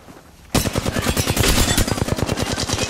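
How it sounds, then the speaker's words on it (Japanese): Rapid gunfire in Apex Legends erupts after a brief quiet start, dense bursts of shots repeating steadily and loudly until the end. "そこで銃声してる"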